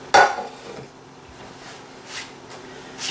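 A regular butter knife scrapes around the edge of a metal pan of cream-corn-style cornbread, a sharp metallic clink at the start, then faint intermittent scraping and light clatters close by.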